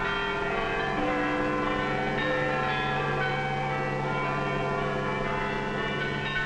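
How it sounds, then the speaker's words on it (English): Church bells ring across wartime Britain in a dense, sustained peal of overlapping metallic tones. The ringing hums on without pause and sounds slightly muffled and aged, with no voices over it. "the people of Britain heard their church bells ring"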